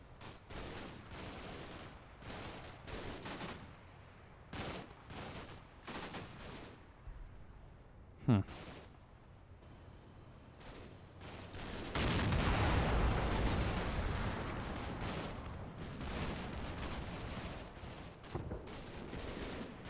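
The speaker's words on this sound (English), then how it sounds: "I think they've called in their second barrage of artillery right now" Artillery barrage and small-arms gunfire in the war game Combat Mission: Black Sea: sharp repeated cracks and bursts, a few isolated impacts, then a heavier rumbling volley of shells landing, all without talk.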